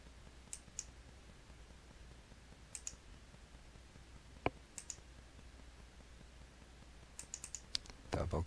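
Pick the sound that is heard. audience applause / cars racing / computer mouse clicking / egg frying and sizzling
computer mouse clicking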